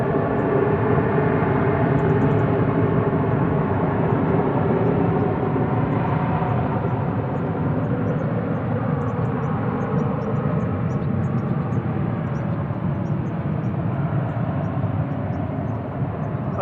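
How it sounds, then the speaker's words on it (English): A Hainan Airlines Airbus A330-300 arriving at Manchester Airport from Beijing, a steady, loud jet engine roar that holds broadband and constant across the whole stretch with no break or fade. "Next arrival, A330-300 coming in from Beijing"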